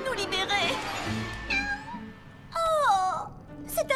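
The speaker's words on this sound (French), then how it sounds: "Oh, c'est un mignon petit chaton." A cartoon kitten meows in a French animated series, several high, wavering mews in a row mixed with other voice-like sounds, heard close and fairly loud.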